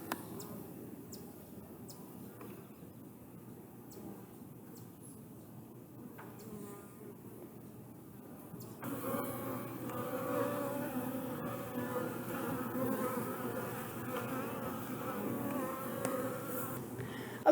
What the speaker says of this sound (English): You can see that all 4 of our hive boxes are abuzz with the bees